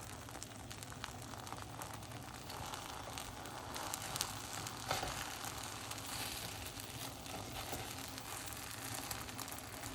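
Eggs sizzle in a pan, a faint, steady crackling hiss with a few small pops throughout.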